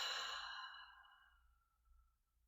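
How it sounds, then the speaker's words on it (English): A single slow exhale through the mouth, a soft breathy sigh that fades out over about two seconds during a guided breathing exercise, alone with no talking. "Exhale through your mouth."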